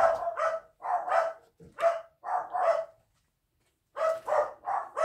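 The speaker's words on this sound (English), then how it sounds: "My dogs sound like they're gonna kill you." Several dogs bark in repeated short bursts, loud and close, with a brief pause before another volley of barking.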